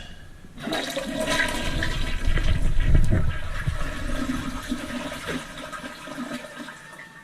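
A toilet flushes loudly and steadily after its base seal ring was replaced and the flange repaired, with a rushing swirl of water that holds for several seconds before easing off slightly at the end.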